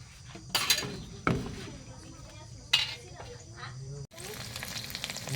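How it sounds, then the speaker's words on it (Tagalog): Quiet sizzling of dried fish (daing) frying in oil, interrupted by a few sharp clanks of utensils against a pan, with a louder burst near the end. "Prito lang tayo ng daing."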